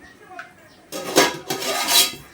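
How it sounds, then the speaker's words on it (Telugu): A metal cooking pot set down on a stove, a close clatter and scrape of metal on metal over a couple of seconds. "ఫస్ట్ అయితే గిన్నె పెట్టుకొని ఆయిల్ వేసుకోవాలి"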